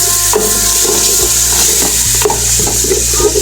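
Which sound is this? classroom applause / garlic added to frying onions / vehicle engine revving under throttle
garlic added to frying onions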